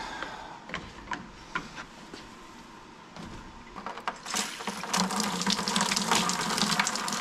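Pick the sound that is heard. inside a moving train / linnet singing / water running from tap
water running from tap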